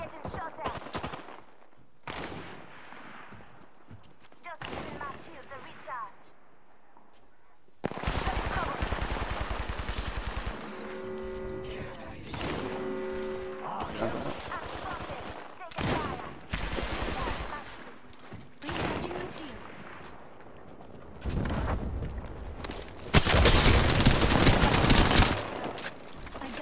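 Video-game gunfire rattles out in repeated bursts of machine-gun fire and single shots while the player is under attack, with loud stretches broken by quieter gaps and voices talking at times.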